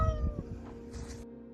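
A cat meows close by in a short, strained cry that rises and then breaks off. There is low rumbling handling noise underneath, and a brief hissy burst near the end.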